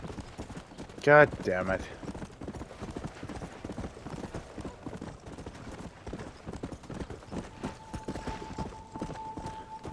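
Horse hooves clip-clop in the Red Dead Redemption video game, a steady rhythmic trot running through the clip beneath a brief loud shout from a man near the start.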